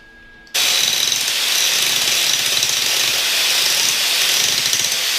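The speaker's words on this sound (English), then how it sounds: "Just going to grind the surface down, buff it up, paint it" An angle grinder grinds and buffs a welded repair on a dirt bike frame. It starts suddenly after a short quiet moment, then keeps up a loud, steady, harsh whine and rasp, close and continuous.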